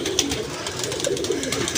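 A pigeon coos softly nearby, a low throaty warble against faint background noise.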